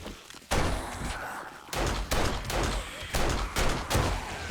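Gunfire in the zombie survival game 7 Days to Die, a run of loud, sharp shots fired in quick irregular bursts, each with a booming tail, close and dominant.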